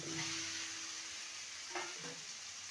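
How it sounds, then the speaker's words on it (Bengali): Lentils, taro root and potato frying in spices in a pan: a soft, steady sizzle with a brief scrape of a stirring spoon near the end, quiet and close. "ভালো করে মশলার সাথে নেড়ে নেব"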